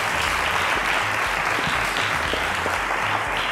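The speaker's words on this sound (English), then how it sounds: "Round of applause to Amarachi" A studio audience at a televised school quiz show applauds a contestant, a full, even wash of clapping that holds steady from start to finish, with a low rhythmic hum underneath.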